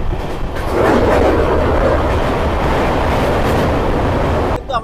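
Seen from on board the Sairang–Kolkata Express, the train crosses a rail bridge with a loud, continuous rumble and roar of wheels on track that stays dense and steady, easing briefly at the end.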